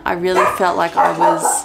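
Pet dogs barking indoors in several quick, loud yips and woofs, one after another, close to the microphone while someone talks over them.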